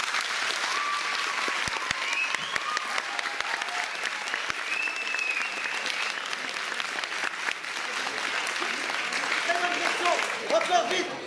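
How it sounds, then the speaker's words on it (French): An audience applauds warmly and steadily for over ten seconds, many hands clapping together in a hall, with a few voices and cheers rising near the end. "On peut l'applaudir 2 fois."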